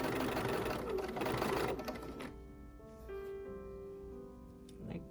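A sewing machine stitches fabric for a pumpkin trivet, first as a loud, steady mechanical whir, then slowing into a softer, lighter hum. A faint knock comes near the end.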